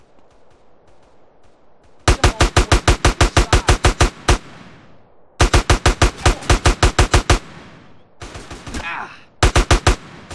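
Loud automatic gunfire from Grand Theft Auto San Andreas comes in several rapid bursts of evenly spaced shots with short pauses between them, and a brief grunt cuts in near the end.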